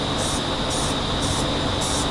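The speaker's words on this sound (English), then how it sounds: "we're gonna spray it with this stuff, satin black chip guard" Satin black chip guard is sprayed from an aerosol can onto a part of a Hellcat-swapped Dodge Dakota, a loud, close, continuous hiss in several bursts separated by brief dips.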